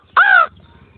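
A man imitates a crow's caw with his voice: one loud, close, harsh caw lasting about a third of a second, followed by quiet.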